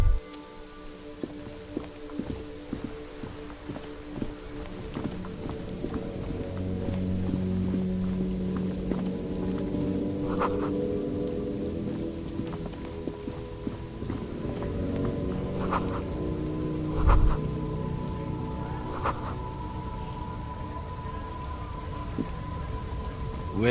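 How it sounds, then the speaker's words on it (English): Steady rain falls in the video game Disco Elysium, a dense wash of drops pattering on surfaces that continues throughout, with a few brief louder knocks and low rumbles mixed in. "This rain will not let up anytime soon."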